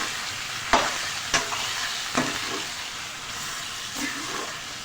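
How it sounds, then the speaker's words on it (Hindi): Pearl millet chutney with spices frying in a pan, a constant sizzle and hiss punctuated by a few sharp scraping stirs, close up with no talking. "इसको खूब अच्छी तरह अब हम भूनेंगे।"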